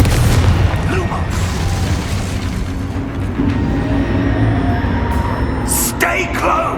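The Confringo fire spell from Hogwarts Legacy goes off as a loud, rumbling in-game explosion with a deep boom and crackling debris, set against ongoing game sound and voices.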